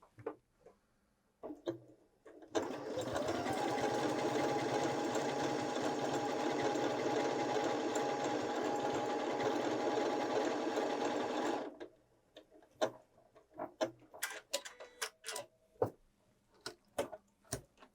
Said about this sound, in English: Okay, stitch a couple of flowers to start.